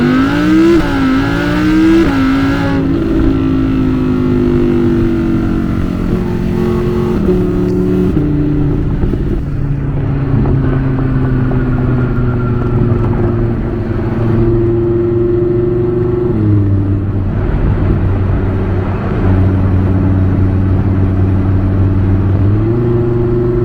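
A 5.2-liter V10 in an Audi R8 revs and pulls hard, its loud tone climbing and dropping through repeated gear changes over some twenty seconds with no talking.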